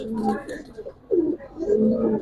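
Soft, low coos of Giribaz pigeons repeat in short rolling phrases, close by, with a faint murmur of other birds behind.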